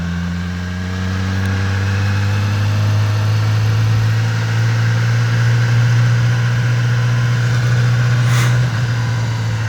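A 2019 Yamaha R6 motorcycle engine, a loud close sustained drone with a steady tone that holds throughout and no talking.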